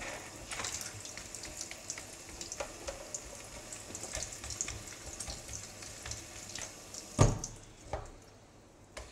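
Water rinsing a Rob Allen roller speargun, a soft hissing, splashing trickle with scattered drips and taps, faint and close, swelling into a brief louder splash near the end.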